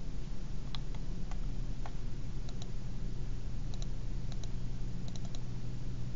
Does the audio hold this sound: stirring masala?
no